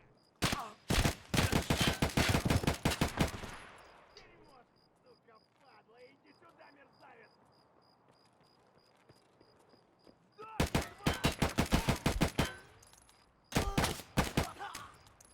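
Bursts of rapid gunfire from the shooter game Escape from Tarkov, loud and close, with a long volley at the start, a quieter stretch of footsteps and ambience, then two more sharp salvos near the end.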